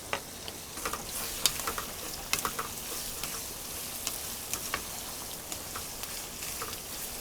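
Onions and shallots fry in a pan for a Kerala green chilli chicken curry, giving a steady close sizzle with scattered pops and a few stirring clicks, and no talk.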